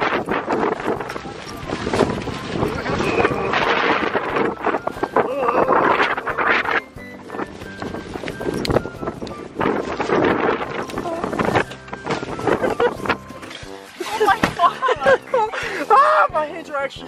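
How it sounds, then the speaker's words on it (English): Strong winter wind buffets the microphone in loud, rumbling gusts that come and go, while people talk and laugh over it close by. "Dude, with that wind."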